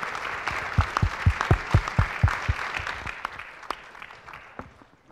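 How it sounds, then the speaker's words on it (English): An audience at a diplomatic event on ending sexual violence in conflict gives a short burst of applause. The crisp claps peak early and quickly thin out and fade away. "I think we can all applaud that."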